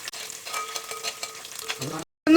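Garlic and green chilli sizzle and crackle in hot oil in a pan for lemon pickle, with steady frying hiss broken by stirring scrapes, close and clear, before a brief cut.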